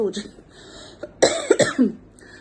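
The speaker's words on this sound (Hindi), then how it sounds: "मेरी खांसी ठीक नहीं हो रही है" A few short, harsh coughs close by, with a throat-clearing rasp between bursts and faint voice sounds around them.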